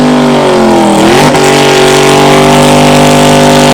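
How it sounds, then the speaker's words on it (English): A race car engine running on a homemade engine dyno, loud and close, holding a steady high-pitched drone, dipping then climbing in revs about a second in before cutting off abruptly at the end. "An engine dyno."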